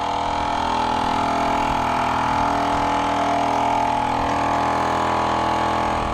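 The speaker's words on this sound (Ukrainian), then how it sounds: "Обкатка трактору буде пройдена по самим сучасним технологіям" A YuMZ tractor engine runs steadily during its run-in, a loud continuous drone with a constant low hum and no breaks.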